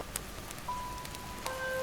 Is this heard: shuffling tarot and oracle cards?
no